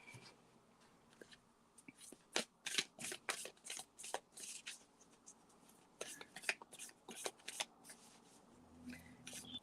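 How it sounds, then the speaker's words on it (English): A deck of tarot cards being shuffled up close, with repeated bursts of riffling and flicking in irregular clusters and brief pauses between them, fairly quiet overall and with no talking. "Okay, Karen, as soon as I'm done shuffling here this one deck"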